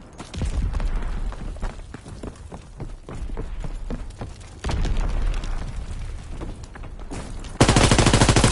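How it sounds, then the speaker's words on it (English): Suppressing gunfire in a video game firefight, sustained automatic bursts with scattered impacts and a louder, denser burst at the end, mostly without talk. "Suppressing fire!"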